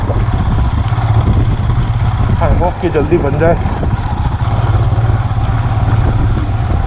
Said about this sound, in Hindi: ये तो हिमालयन बाइक है बोल के ऐसे रास्ता में आराम से निकल गया